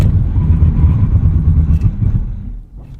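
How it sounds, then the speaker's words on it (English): A 2016 Audi S7 slows hard from 60 mph on a test track, a steady low rumble of engine and road noise fading as the car comes down in speed, with no talk. "Let's do a braking test up here."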